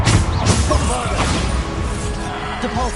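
Bombarda blasting spell in Hogwarts Legacy video game: a loud, dense burst of crashing impact and rumble with whooshing debris, sustained through a chaotic spell fight.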